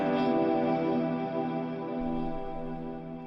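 Guitar through an Axe-Fx III Plex Delay with diffusion set to 0%: a sustained, ringing chord wash with distinct repeating echoes, fairly quiet and steady, played alone without speech.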